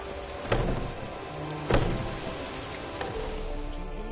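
Rain falls steadily in a video game, a continuous hiss with a few sharper splashes or distant rumbles.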